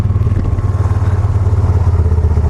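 A Can-Am Spyder RS-S three-wheeled motorcycle rumbles close by with a steady, pulsing low engine note as it is ridden up into a shop.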